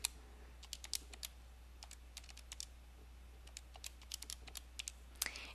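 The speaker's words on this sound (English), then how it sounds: "you're going to type that in the calculator" Numbers are keyed into a calculator as a run of quick, light plastic key taps in irregular bursts, close and fairly faint over a steady low hum, with no talking.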